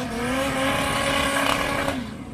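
A drag racing car at a drag strip doing a smoking burnout, a loud sustained engine roar with a high tire squeal rising and holding for about two seconds before dropping away.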